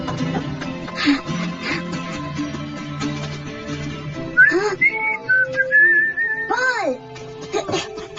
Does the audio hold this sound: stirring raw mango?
no